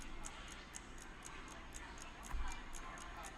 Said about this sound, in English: I can hear a clock on my wall